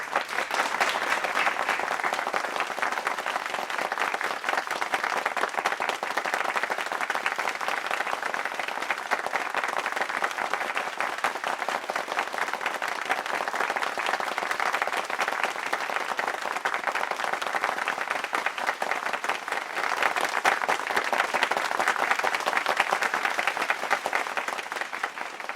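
Faculty applause honoring the Augsburg University class of 2020 at a virtual commencement, a sustained, even roar of many hands clapping, loud and continuous for about twenty-five seconds without pause or talk.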